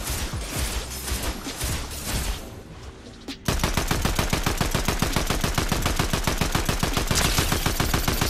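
Assault rifle fire in the Fortnite video game, a quieter scattered patch of shots followed by a loud, rapid, sustained automatic burst of evenly spaced cracks.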